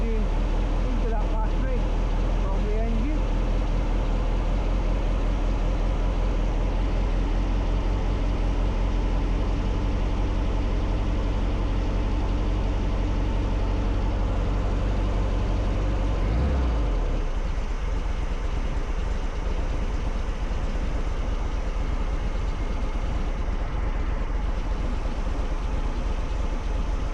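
A low vehicle engine rumbles steadily at idle while charging a battery through a split charger, with a voice talking over it; the deep drone shifts partway through and continues at a lower hum.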